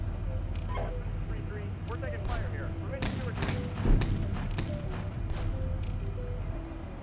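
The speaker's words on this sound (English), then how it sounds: "I'm gonna be calling in for fire support for HE rounds as well as precision strikes" Artillery high-explosive rounds land as fire support in a tank game, sending distant booms and thuds over a constant low engine rumble, with one heavier impact near 4 s, while a voice talks.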